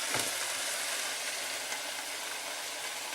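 Rice with vegetables and pilau masala spices sizzles steadily in a hot pan, a dense, even frying hiss that holds at constant loudness throughout, with no voices.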